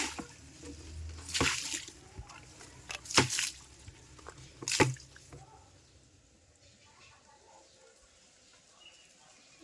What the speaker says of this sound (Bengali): জল টল ঢেলে দিয়ে পরিষ্কার করে দিলাম